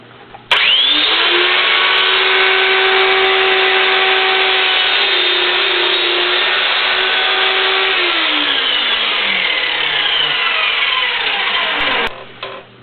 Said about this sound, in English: I had a short saw on here, as you can see, it's slicing most of the way.